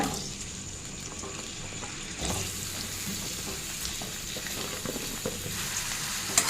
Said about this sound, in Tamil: எல்லா காலிஃப்ளவரும் கட் பண்ணியாச்சு இப்போ வந்து அந்த எண்ணெயில் சேர்த்துக்கலாங்க